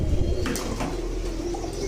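Adult teddy pigeons coo softly in a short burst, a few low throaty coos with faint rustling nearby, no talking.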